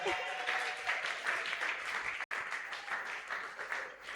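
A church congregation at a Sunday thanksgiving and praise service applauds the Lord, steady and fairly faint, with a few voices mixed in beneath the clapping throughout.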